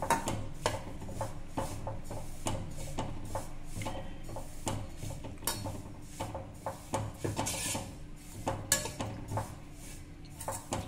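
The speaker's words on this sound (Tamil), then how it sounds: "இதை வந்து சட்டியில் போட்டு வறுத்துன்னு வந்துடலாம்" Oats dry roasting in a pan for oats dosa, stirred and scraped with a spatula: a long run of quick, rhythmic scraping and rubbing strokes against the pan, close and moderately quiet, with no talking.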